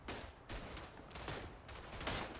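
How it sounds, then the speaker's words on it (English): Rapid bursts of Browning automatic rifle fire ring out in Verdun trench combat, several quick volleys spaced about half a second apart. They are fairly distant and muffled within a steady battlefield din. "Oh, frickin' Browning auto rifle."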